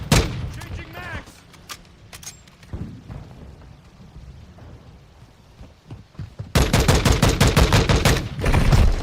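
Bursts of automatic gunfire in Call of Duty Modern Warfare II, sharp close rapid shots at the start, a quieter stretch with scattered distant shots and a voice, then loud sustained firing to the end.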